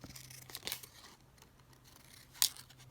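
Scissors snip through paper while journal cards are trimmed, a few sharp crisp cuts separated by quiet rustling, close and fairly soft with no voices.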